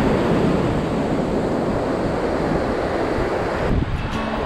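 Ocean surf rolls and breaks steadily on a Cornwall beach, a continuous broadband wash with wind buffeting the microphone, loud and close, fading slightly near the end.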